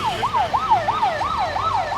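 An ambulance-style siren wails in a rising and falling cycle, loud and close over road and engine noise, as a vehicle travels toward a COVID-19 burial in Ghana.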